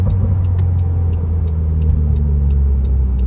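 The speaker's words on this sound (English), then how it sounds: "So I would just usually downshift it" A 2021 Subaru WRX Sport with a manual gearbox gives a steady, loud, low engine rumble throughout, with no distinct rev spike standing out. Faint rhythmic ticking sits above the drone.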